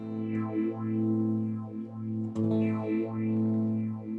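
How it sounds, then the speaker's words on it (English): An electric guitar runs through a phaser effect, a sustained chord with a slow, sweeping whoosh that rises and falls in repeated waves, alone and moderately loud. "But we can hear what a phaser sounds like."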